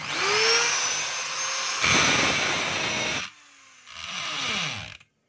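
A Stanley STDH7213 hammer drill roars loudly in two bursts with a high whine, revving down between them and spinning to a stop at the end.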